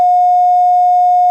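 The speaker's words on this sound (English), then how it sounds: "Try hitting the tones one more time, please." A fire dispatch paging tone over a county radio system, one steady, loud, pure electronic tone held unbroken for more than a second, with no voices.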